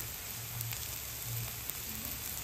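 Onion, garlic, ginger and capsicum sautéing in a pan for veg Manchurian give off a steady, soft sizzle throughout, with faint scraping near the end and no one talking.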